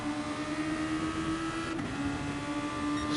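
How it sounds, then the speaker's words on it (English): Simulated Super Formula 19 cars at Autopolis sweep through turns at speed, giving a steady, continuous high engine whine that holds a near-constant pitch with a slight dip midway, with no talk. "these poor tyres under pressure as they come around these turns at speed"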